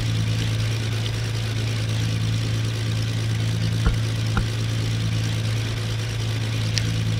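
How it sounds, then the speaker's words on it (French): Steady drone of a warm aircraft engine idling in a flight simulator cockpit before departure from Bordeaux-Mérignac, a constant low hum with faint clicks, no talking. "Le moteur est chaud. Ça fait il y a 10 minutes qu'il tourne."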